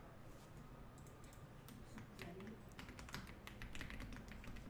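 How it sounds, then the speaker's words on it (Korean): Keys pressed on a computer keyboard, a Ctrl key combined with the number 1, heard as a scattered series of soft, close clicks and taps over faint room hiss. "키보드에서 컨트롤 키 누른 상태에서 숫자 1을 하면"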